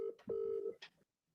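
Telephone tones while an audio call is started, two short steady beeps followed by a brief chirp, quiet and isolated, lasting about a second.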